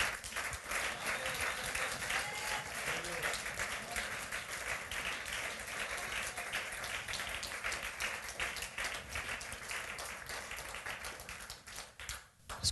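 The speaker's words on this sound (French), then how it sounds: "Est-ce que tu peux acclamer très fort le roi des rois?" A church congregation applauding and cheering for the King of Kings, dense sustained clapping and crowd noise at moderate distance for over twelve seconds, easing briefly near the end.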